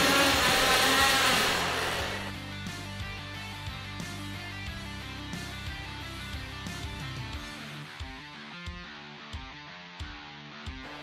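Columbia automatic drywall taper running tape along ceiling angles, a steady whirring mechanical drone that starts loud and then settles into a quieter hum with faint clicking ticks, alone without talk.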